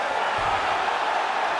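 A UFC 5 arena crowd cheers as a steady, dense roar that holds at an even level for its short span, with no clear voices standing out.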